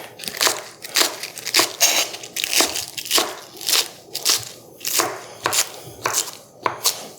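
Sharp knife chopping green onions on a cutting board, a steady run of crisp, evenly spaced cuts, close and clear with no talk.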